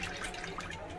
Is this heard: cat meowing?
no